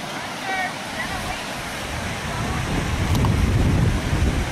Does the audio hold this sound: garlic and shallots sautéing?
no